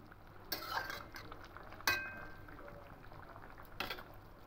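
Okra and potatoes stirred in a cooking pan, giving three separate scraping bursts over a quiet, low background with no talking.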